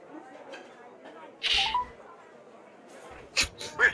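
Telephone dialing in a Jackbox Games party game: a few short electronic keypad beeps, one at the start and a quick cluster near the end, over a quiet background.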